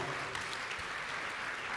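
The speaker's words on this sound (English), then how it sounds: "So please go to have a round of applause for my distinguished panel." Audience at a decarbonization summit panel clapping, a steady round of applause heard from a distance, soft and even throughout.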